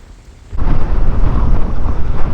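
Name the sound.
strong coastal wind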